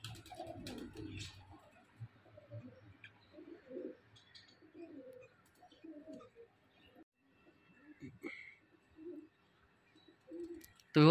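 Doves in a backyard aviary cooing, soft rhythmic low coos repeating in short phrases, close and fairly quiet, with a few chirps and light background noises.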